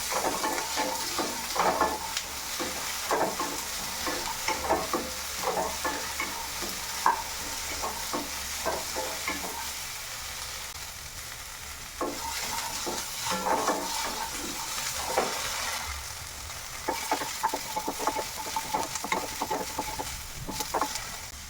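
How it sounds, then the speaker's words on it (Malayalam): Chopped small shallots sizzle and fry in a pan for a spicy okra and kanthari chilli curry, with continuous stirring and scraping as the pieces are sautéed. "അതിലേക്ക് ചെറിയ ഉള്ളി ഇതുപോലെ കട്ട് ചെയ്ത് വെച്ചത് ചേർത്ത് കൊടുക്കാം എന്നിട്ട് ഇതെല്ലാം നന്നായിട്ട് ഒന്ന് വഴറ്റിയെടുക്കുക"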